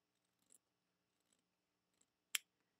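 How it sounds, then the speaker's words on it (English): Scissors snip through quilting fabric for a sampler block in a few quiet, separate cuts, the last one sharper and louder than the rest, with no talk. "I just like cutting these with whatever scissors I have."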